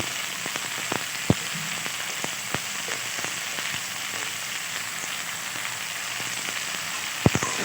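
Food fries in a pan with salt and turmeric, giving a steady crackling sizzle close by, with a few sharp knocks of a utensil and no talk.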